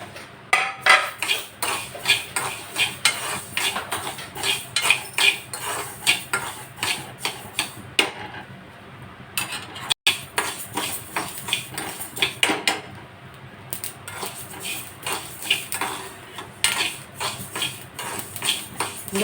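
Fenugreek and mustard seeds spluttering in hot oil while mango pickle is made, giving dense rapid crackles and pops with steady clicking bursts and a few brief pauses, close and fairly loud.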